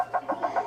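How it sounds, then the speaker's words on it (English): Walrus vocalization: a quick run of four short, pulsing grunts or knocks in steady rhythm, close and fairly loud, with no talking. "The sound of a walrus."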